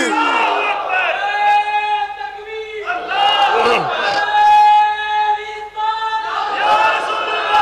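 A large crowd at a religious conference roars a loud unified chant in answer to a Takbir call, coming in repeated swelling waves of many voices with brief gaps between them.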